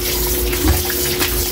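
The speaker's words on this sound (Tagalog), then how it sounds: "Hugasan mo natin to Kaylee para mamarinate natin." Tap water runs steadily over raw beef as it is rinsed in a sink before marinating for beef broccoli, a continuous close splash with a brief heavier gush midway.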